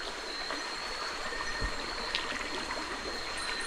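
River water rushing and falling beside a house, a steady close wash of flowing and splashing water that carries on without a break and with no speech over it.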